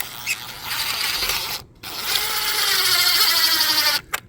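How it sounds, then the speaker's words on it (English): A cordless drill whirs in two bursts, the motor winding up and straining as it drives a screw into a deck railing, with a brief pause between runs. "So I got my cordless drill. So we'll screw this in."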